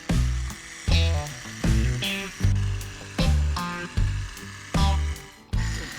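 A small electric pump wired to a motorcycle battery inflates a motorcycle tyre, chugging in steady, evenly spaced mechanical pulses roughly every two-thirds of a second, close and fairly loud.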